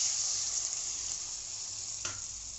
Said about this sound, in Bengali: আলু আর ঝিঙেটাকে একটু ভাজা ভাজা করে নেওয়ার পরে এর মধ্যে দিয়ে দিলাম জল।